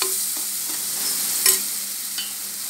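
Spices stirred in hot oil for a drumstick and potato bhaji, with a steady broad sizzle and a few scraping spoon strokes; one louder scrape stands out midway, no talking.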